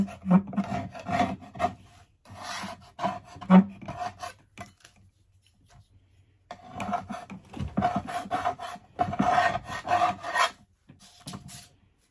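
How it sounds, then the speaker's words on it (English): A paint scraper rasps over a milk-painted wooden footstool to distress the finish, giving close, gritty scraping strokes in uneven bursts with a short pause in the middle. "So it is time to distress. And I've got my paint scraper. It's going to give me some chunks out of this."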